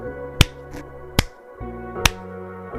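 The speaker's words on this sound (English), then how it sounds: "Then the eldest princess clapped her hands 3 times" Three sharp, close hand claps ring out alone and evenly spaced, each a crisp slap with a short decay, over a soft sustained musical backdrop.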